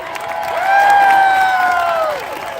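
Rally crowd cheering and whooping at a Hands Off protest in New Orleans, a loud sustained swell of voices with high shouts that rises, holds for over a second, then eases back.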